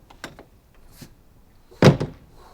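Outdoor kitchen door on a 2021 Vengeance Rogue Armored 4007 fifth-wheel toy hauler RV, a few light clicks and then one close, solid thunk as it opens.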